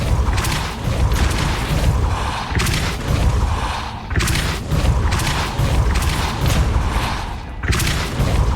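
Repeated Depulso spell casts in the Hogwarts Legacy video game, each a loud booming magical blast with a mechanical rumble, recurring every second or so in a dense, continuous sequence of impacts.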